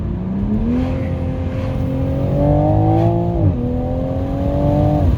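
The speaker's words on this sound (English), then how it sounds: "we're gonna downshift and floor it after these cars." A sports car engine revs up with rising pitch, briefly drops as a downshift to second gear cuts in, then climbs again at full throttle, loud and close.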